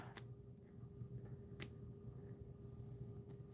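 Two quiet, crisp snips of scissors cutting off the excess strip of a nail strip, close and brief, spaced apart over a faint hum.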